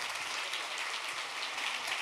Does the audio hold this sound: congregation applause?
yes